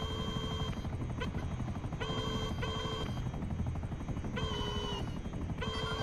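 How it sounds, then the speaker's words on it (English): A helicopter gives chase in GTA V. Its rotor makes a continuous loud, throbbing drone, overlaid by intermittent electronic game tones. "You got anything tailing us? Helicopters."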